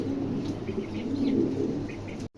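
A pair of Maltese pigeons in a pigeon showroom give low, soft cooing calls, a steady close murmur with a few faint chirps over light room noise.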